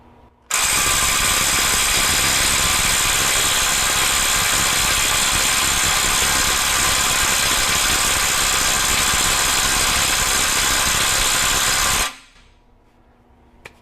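Bosch Freak GDX18V-1860C impact driver hammering continuously at 400 foot-pounds, a loud, dense rattling burst lasting about eleven seconds, then stopping abruptly into quiet.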